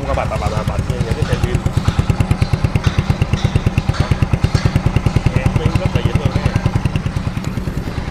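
A Honda Chaly 50 motorcycle engine runs steadily at idle, a close, loud, even pulsing putter with a mechanical clatter throughout.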